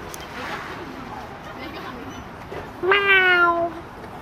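A single drawn-out, falling meow rises clearly above soft outdoor murmuring at a riverside picnic by the Han River, near the end of a quiet stretch of background chatter.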